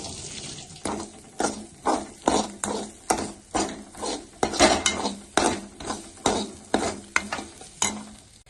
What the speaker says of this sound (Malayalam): ഇതിന്റെ പച്ചപ്പ് മാറുന്നത് വരെ നമുക്കൊന്ന് ഇളക്കി കൊടുക്കാം.